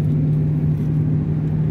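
Inside a moving car, a steady low engine and road rumble drones evenly and fairly loud for under two seconds, with no speech.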